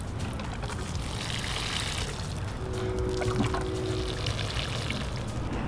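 Zinnias in a front flower bed are watered, giving a steady, loud splashing pour onto soil and leaves that runs without a break throughout.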